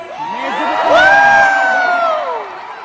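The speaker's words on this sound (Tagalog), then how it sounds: "wala kami naririnig na music, puro sigaw nyo" A large crowd at a concert in San Francisco screams and cheers loudly, a sustained roar of shrill voices swelling in the middle and staying strong throughout.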